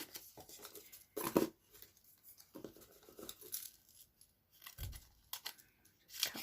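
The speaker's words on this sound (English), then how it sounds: "Just cut those in half." Scissors snip card pieces in half while making a birthday card, a few sharp close cuts and paper rustles separated by quiet pauses.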